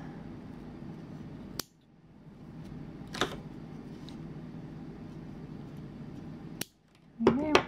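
Scissors trim the excess yarn from a small crocheted lettuce leaf, giving a couple of sharp, quiet snips against soft background hiss.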